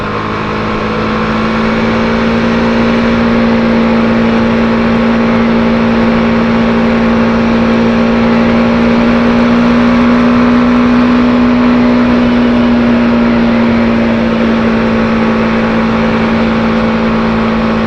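A BMW G310R motorcycle rides along a winding road, its single-cylinder engine droning at a steady, sustained pitch with a slight rise midway and constant wind rush, loud and close throughout, with no one talking.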